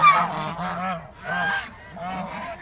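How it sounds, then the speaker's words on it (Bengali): Ducks calling on a farm, a run of four loud, close, honking quacks in quick succession, with no talk. "হাঁসেরা এখানে খাচ্ছে।"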